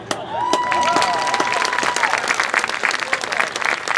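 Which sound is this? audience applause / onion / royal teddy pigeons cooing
audience applause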